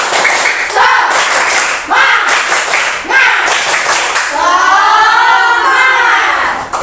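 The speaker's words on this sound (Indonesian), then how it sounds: "Tepuk semangat." A class group does a rhythmic spirit clap, loud and close, in a lively chanted rhythm, with voices shouting along over the beat in Indonesian.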